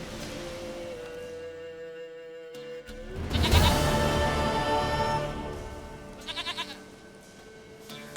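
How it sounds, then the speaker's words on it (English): A goat bleats in The Witcher 3, a drawn-out wavering cry rising over quiet background music, followed moments later by a short trio of quicker bleats. "Goat of mine, dearest, sweetest goat."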